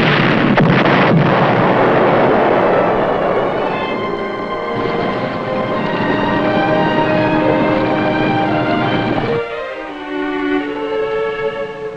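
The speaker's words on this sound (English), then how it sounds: "They're shooting up their own ship!" Heavy naval gunfire roars continuously from an enemy warship shooting up its own ship, a dense, loud, rumbling barrage with sharp bursts early on, easing into a lower rolling din near the end.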